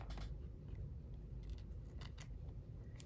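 Scissors trim paper for a junk journal page, making several quick, close, crisp snips and slicing strokes over a quiet room background, with no talk.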